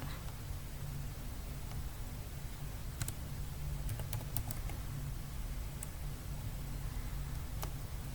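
Keys tap on a computer keyboard as a word is typed into a list program, a faint, sparse run of quick clicks over steady room hiss, with no talking.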